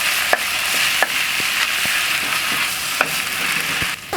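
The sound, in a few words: red curry paste sizzling on Pit Boss gas grill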